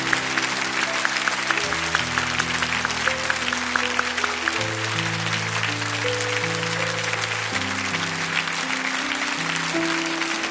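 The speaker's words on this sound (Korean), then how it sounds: "우리 한 번 더 큰 박수로 축복합니다" A church congregation applauds at an anniversary worship service in a steady, sustained wash of clapping over held keyboard or organ chords, with no talking.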